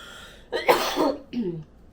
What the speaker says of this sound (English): Sorry that I'm coughing